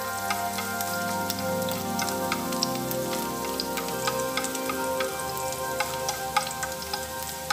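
Instant noodles with garlic stir-fry in a hot pan, giving a steady close sizzle with small crackles and light scraping throughout and no voices.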